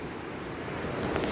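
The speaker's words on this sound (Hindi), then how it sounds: "इसमें आदमी बह जाएगा, बहुत तेज़ी से पानी गिर रहा है। इसका बहाव, आवाज़ सुन रहे होंगे" Fast river water rushing through the Gaula barrage at Kathgodam on the Gaula river in Uttarakhand, a steady broadband roar that swells slightly toward the end, with no voices.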